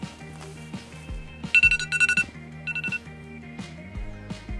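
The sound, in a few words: alarm going off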